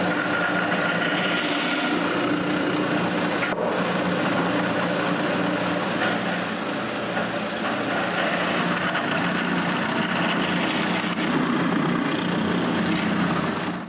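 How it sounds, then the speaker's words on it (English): A drill works pilot holes into the wooden legs and hooks of a coat rack, giving a steady, continuous motor whine with grinding that runs unbroken for the whole stretch, close and fairly loud. "I need to mark and drill pilot holes into the legs and hooks"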